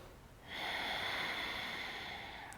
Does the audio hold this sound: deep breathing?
yes